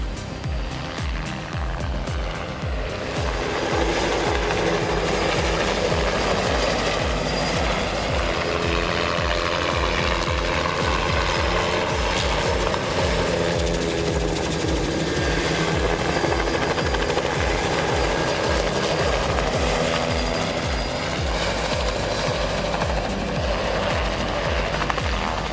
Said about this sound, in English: Just watch the crazy skills of this helicopter pilot.